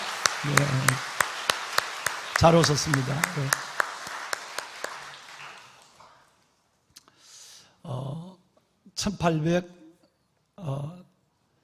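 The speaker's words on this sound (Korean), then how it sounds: "큰 박수로 다시 한번 환영합시다" A church congregation at a Sunday worship service applauds to welcome a new family, a dense burst of clapping lasting several seconds before fading, followed by someone speaking briefly.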